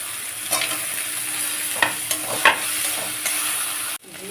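Potatoes fry in a pan with turmeric and salt, a continuous close sizzle broken by a few scraping stirs and clinks of a utensil.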